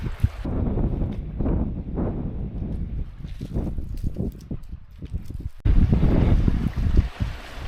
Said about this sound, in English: that splashing that you can hear at my feet is that mad dog of mine deciding to go for a bath